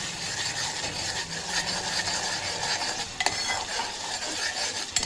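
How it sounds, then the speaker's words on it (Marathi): Masala for a biryani gravy frying in a pan, a dense continuous sizzle with stirring scrapes and a couple of sharper utensil clicks, close and steady with no voices. "तर हा मी मसाला मस्त असा तळून घेते"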